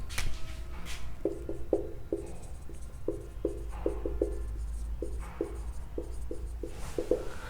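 Marker or chalk strokes on a classroom board during a pavement design lecture, a steady series of short scratchy strokes in rhythmic bursts over a low background hum, with no speech.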